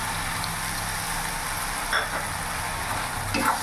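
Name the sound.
spice paste (masala) being fried in oil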